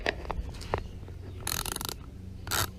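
Ratchet wrench clicking as it loosens a bolt on a Honda starter, with two loud bursts of rapid ratcheting between quieter mechanical handling noises, close up.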